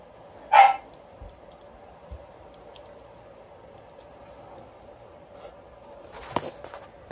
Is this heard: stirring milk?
no